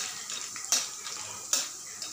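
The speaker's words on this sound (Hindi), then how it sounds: "चलिए इसे 1 से 2 मिनट इस तरह से चलाते हुए भून ले रही हूँ।" Corn kernels frying in oil in a pan over a high flame, stirred with a spoon, giving a steady soft sizzle broken by two sharp scraping clinks of the utensil against the pan.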